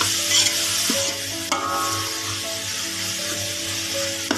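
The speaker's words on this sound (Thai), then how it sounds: "พริกกระเทียมเริ่มหอมแล้วนะแล้วก็เอาหมูใส่เลยนะทุกคน ผัดหมูให้ ให้สุกให้สุกก่อนนะ" Pork stir-frying in a pan with fragrant chili and garlic before bamboo shoots go in, with a loud, continuous close sizzle and a few scraping stirs of the spatula.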